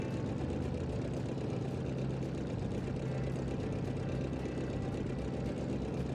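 The race version of a vintage car built in the video game Automation runs with a loud, steady, throaty engine drone, a continuous buzzing rumble held at constant revs throughout.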